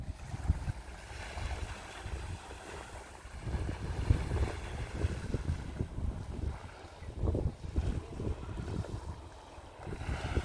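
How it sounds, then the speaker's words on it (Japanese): Seaside wind on Ikema Island, Miyakojima, rumbles steadily into the microphone in gusting waves, a continuous low roar with faint surf-like wash and no voices. "風の音もちょっと入ってるかもしれませんけど"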